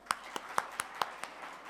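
A handful of sharp, isolated handclaps from an audience at a career-guidance speech for students, spaced in a loose rhythm and fairly quiet rather than a full burst of applause.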